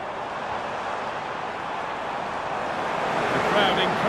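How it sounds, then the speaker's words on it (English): Stadium crowd noise from a Premier League match in the FC 25 video game, Southampton against Liverpool, a steady broad roar of encouragement that swells slightly toward the end, heard alone without talk. "The crowd encouraging him to take it on."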